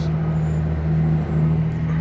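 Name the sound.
truck passing in underground Subtropolis facility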